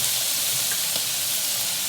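Tomato paste sizzles in a hot pan for shakshuka, a steady, dense frying hiss that holds at an even level from start to finish, close and alone with no talking.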